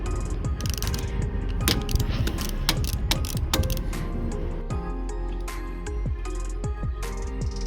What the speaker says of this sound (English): I got this wrench with this extender and a 10mm ratchet. So I'm gonna start unscrewing.